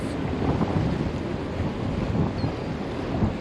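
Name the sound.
strong wind blowing outdoors on a boat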